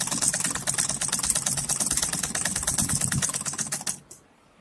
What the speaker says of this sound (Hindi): इस निशान से अब हम एक सिलाई डालेंगे यहाँ।